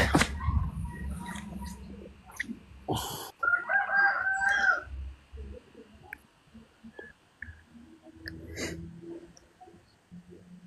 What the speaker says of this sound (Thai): ขันเนี่ยนะ เหมือนก็เป็นเด็กซุ้มไก่